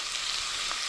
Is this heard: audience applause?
no